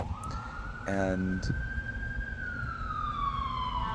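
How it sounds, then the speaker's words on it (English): An ambulance siren sweeps slowly through its tone, fairly distant and steady, running under street noise while a person talks briefly over it. "there's always an ambulance around"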